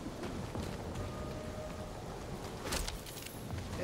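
Rainfall in the Guardians of the Galaxy video game, a faint, steady patter spread evenly across the scene with a slightly louder burst near the end and no voices.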